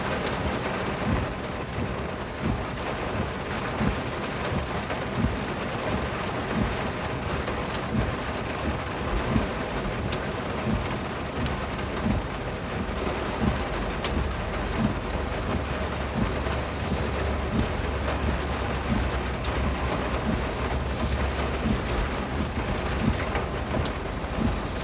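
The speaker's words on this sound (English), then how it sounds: "now it's just going to be some heavy rain" Heavy rain pours steadily through a North Texas thunderstorm, a dense, constant hiss of drops with low rumbling underneath and faint gusts, continuing unbroken for about twenty-five seconds with no voices.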